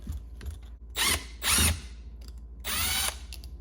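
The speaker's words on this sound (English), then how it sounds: "get these out with this impact" An impact driver backs bolts out on a Suzuki DRZ400SM motorcycle: three separate bursts of close, loud whirring and hammering, each under a second long, with a quiet pause between them.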